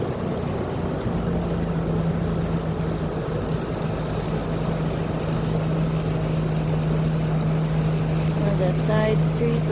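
Motorboat engine running on a side channel of the Apalachicola River, a steady low drone with a constant hum throughout, loud and close amid wind and water noise.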